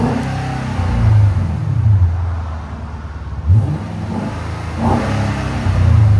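Genesis 5.0L V8 revving through an aftermarket exhaust, deep bassy idle broken by sharp blips that rise and fall, loud and close, with no voices over the engine.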